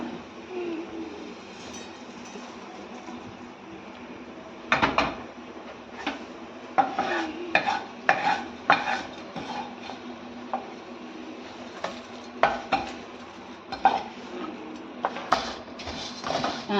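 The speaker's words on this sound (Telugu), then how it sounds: "కొంచెం నూనె వేసి మిగతా పదార్థాలన్నీ నూనె వేసి వేయించుకుందాము." Spices, dals and curry leaves fry in hot oil for Andhra-style tamarind rice, with a steady low sizzle under repeated close clinks and scrapes of a spoon stirring against the pan.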